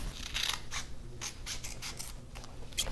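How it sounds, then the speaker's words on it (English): Scissors snip through athletic tape in a series of quick, close cuts, several crisp bursts in a row, with no talking. "So then what you wanna do is you want to cut that."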